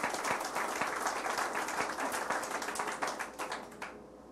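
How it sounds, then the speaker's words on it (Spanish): Church congregation applauding during a Sunday service, steady dense clapping from many hands lasting about four seconds before fading out. "De un aplauso."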